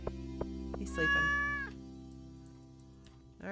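A cat in the Stardew Valley video game gives one drawn-out meow near the start, clear and close over steady game music.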